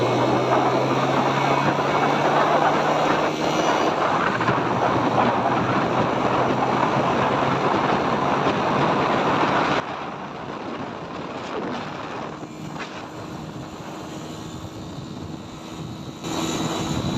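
A 2023 model 125cc motorcycle at full speed on a road, a loud steady engine drone that drops abruptly in level as it passes and recedes, then holds at a lower hum.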